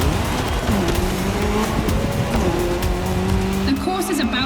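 A car races in The Crew Motorfest's Red Bull Speed Clash, a loud, continuous engine roar with revs shifting and tires squealing, heard beneath a voice talking.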